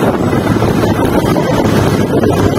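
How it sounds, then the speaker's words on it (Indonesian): Strong wind buffets the microphone without letup, a dense roaring rumble outdoors on high ground above green pastureland, with no voices. "Maaf kalau ini anginnya gede sekali"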